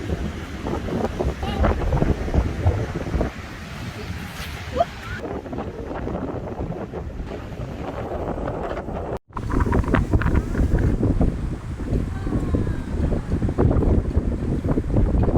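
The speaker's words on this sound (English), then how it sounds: "We were hit by rain and sand because the wind was so strong on that day" Strong storm wind buffets the microphone on a Phuket beach, a loud roaring gusty rush with surf beneath, steady for the whole stretch apart from one brief dropout.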